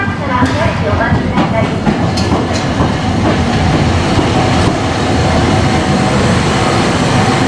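A Tokyo streetcar arriving at a platform rumbles and clatters steadily close by, a continuous loud mechanical roar with faint voices in the background.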